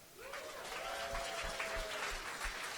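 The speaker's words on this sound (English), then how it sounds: "Put your hands together if you met somebody awesome just now" An audience at a Seattle tech meetup breaks into applause, a dense steady clapping that swells quickly and holds, with a voice briefly audible in the room.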